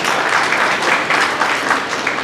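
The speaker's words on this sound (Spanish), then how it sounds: "Creo que la mujer se merece un fuerte aplauso en honor a Teresa Sainz." An audience gives loud applause in honor of Teresa Sainz: dense, continuous clapping that stays strong and even from start to finish, close and filling the room.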